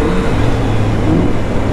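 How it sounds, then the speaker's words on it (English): A Ford Mustang with a hood scoop revs its engine, a steady loud mechanical roar with low rumbling harmonics that holds continuously and close by, without distinct breaks. "Oh, boy, the Mustang's revving."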